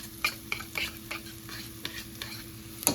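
Onions sautéing in butter at the bottom of a pot make a low, constant sizzle, with a spoon stirring and scraping in repeated short strokes. Close and quiet with no talking.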